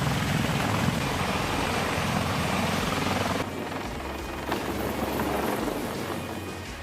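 A CH-53 Yasser military heavy-lift helicopter flying, giving a steady, dense rotor and engine roar that stays loud and constant and eases a little partway through, with no voices.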